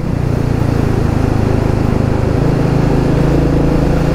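Loud and close, a Royal Enfield Meteor 350 motorcycle engine hums continuously under heavy wind noise during a ride, with a slight drop in engine note partway through.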